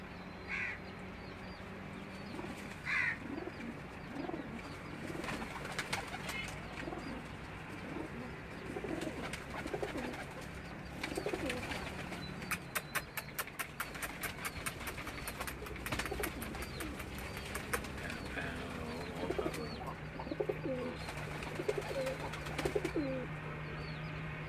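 Pearl pigeons cooing at a rural dera in Gujrat, soft repeated coos mixed with other bird calls and a distant crow cawing, steady outdoor background throughout at low level.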